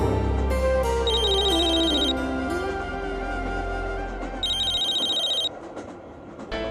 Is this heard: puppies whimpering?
no